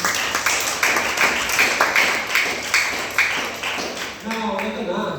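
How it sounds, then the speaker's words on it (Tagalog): A church congregation claps together in a steady rhythmic patter of many hands that fades near the end, with a voice speaking underneath. "Pumalakpak muna tayo."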